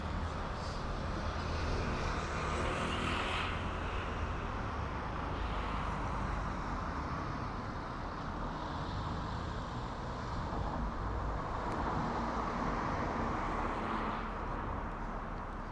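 An airplane roars steadily overhead above a London suburb, a broad continuous wash of engine and air noise that swells slightly and holds loud throughout with no voices.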